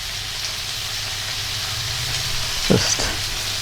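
Baked bean mixture sizzling steadily in a pan after wine is poured in, a continuous close frying hiss with a brief stir or scrape near the end.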